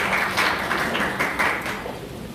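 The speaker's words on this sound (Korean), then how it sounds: "다시 한번 박수 부탁드립니다." An audience at a press event for the Korean drama Hwarang claps in a moderate burst of applause that swells in waves and fades slightly, with no talk over it.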